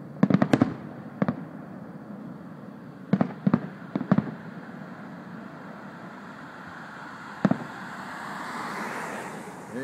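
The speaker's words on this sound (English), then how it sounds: "that's the first of the fireworks on the Hudson River for 2011." Fireworks bursting over the Hudson River at Bear Mountain in 2011: sharp, loud booms in scattered clusters of two or three, echoing against a steady outdoor hiss, then a quieter stretch with one more distant-sounding pop.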